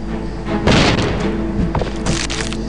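A Phoenix spell exploding in the Guild Wars 2 video game: a burst of booming, crackling impacts, with a sharp blast partway through and further crackling hits after it, over game background sound.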